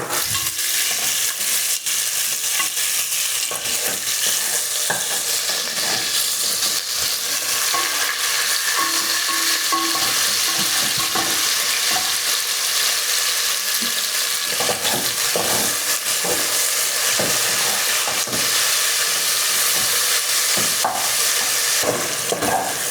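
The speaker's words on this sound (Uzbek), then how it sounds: "Go'sht qovurib olamiz." Meat sizzles and fries in hot oil in a pot as the first step of an Uzbek bean soup, with a steady loud crackle and occasional stirring clatter throughout, no talking.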